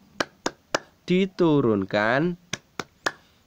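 A child-style rhythmic hand-clapping routine called tepuk An-Nas: three crisp claps, a sung phrase, then three more claps in the same even beat.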